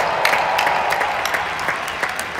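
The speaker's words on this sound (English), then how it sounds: "Let's clap for that." Live event audience clapping in honor of Michael Jordan, a full, steady applause with crisp nearby claps popping out of the crowd sound.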